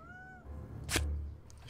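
A pet cat lets out a single short meow, fairly close and alone, over a quiet room with faint background hum and a brief thump.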